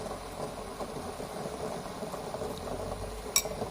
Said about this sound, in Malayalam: വെള്ളം കുതുകുതാ തിളച്ച് മറിയുന്ന രീതിയിലേക്ക്.